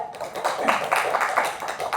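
Applause from a classroom audience for a student group after its presentation, a steady patter of many hands clapping at moderate loudness with a faint voice underneath.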